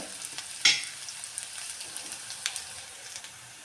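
Ginger-garlic paste and vegetables frying in a pan, with a soft steady sizzle, a sharp stir or scrape near the start and faint clicks of the utensil through the rest.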